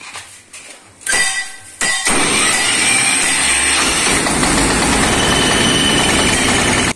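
A paddy, wheat and corn threshing machine's engine cranks in short bursts and then catches, settling into a loud, steady, rough idle that runs unbroken to the end, with no talk over it.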